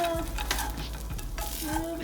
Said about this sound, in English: we've got our rice really sizzling now